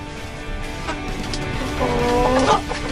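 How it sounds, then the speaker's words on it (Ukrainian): Young roosters cluck and chatter steadily over a busy, noisy background, with a louder run of clucking near the end. "Ще два півники приїхало."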